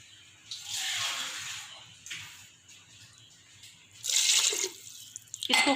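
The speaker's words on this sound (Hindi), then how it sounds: "दो गिलास इसमें मैं पानी ऐड करूँगी" Water from a glass is poured into a pressure cooker pot holding mutton and spices, heard as two separate splashing pours with a quiet gap between them and a shorter trickle at the end.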